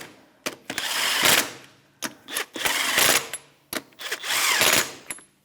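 A power tool with a 21 mm socket snugs the wheel lug nuts on a 2013-2018 Toyota RAV4 in loud, close, whirring bursts of about a second each, with brief clicks and pauses between nuts.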